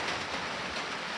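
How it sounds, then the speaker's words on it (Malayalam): Rain falls steadily outside a house, a dense, even hiss of drops heard alone and fairly soft, with no voices. "ഇപ്പോൾ മഴ പെയ്യാണ്"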